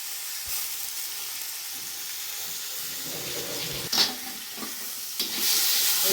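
Boiled, ground ash gourd greens fry in a pan with onion, giving a steady close sizzle broken by a couple of brief stirring scrapes toward the end.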